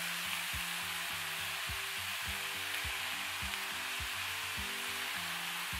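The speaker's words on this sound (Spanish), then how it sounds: "lo que voy a hacer ahora es añadir el pollo ya salpimentado" Seasoned chicken fries with onion in a pan over medium heat, a steady bright sizzle throughout with soft rhythmic knocks and stirring underneath.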